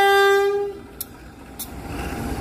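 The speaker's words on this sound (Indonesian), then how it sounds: "Lokal diberangkatkan dari stasiun Haur Bogor." A local commuter train's horn sounds a long steady note at the start, then fades into rumbling rail noise as the train departs Haurpugur station in Indonesia.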